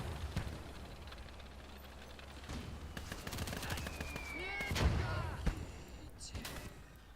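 Machine gun fire from a Japanese tank in a video game, bursts of rapid shots rising over steady engine rumble toward the end, with someone talking over it.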